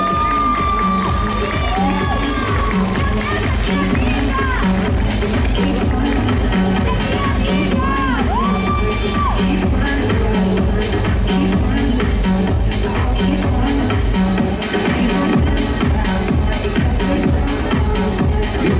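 Audience at a cosplay awards ceremony during the Super XP 2022 convention erupts in loud, continuous cheering and shouting, with high-pitched whoops and children's voices, dense and sustained throughout.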